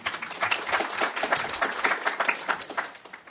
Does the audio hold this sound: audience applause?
yes